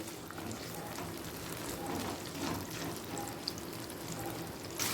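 Onions fry in a pan for a paneer and capsicum dish, giving off a steady close hiss and sizzle throughout, with a brief clatter at the very end.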